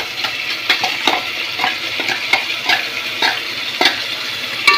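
Ginger garlic paste hits hot oil with chillies in a pan and sizzles continuously. Regular stirring scrapes and clicks of a utensil against the pan recur throughout, close by.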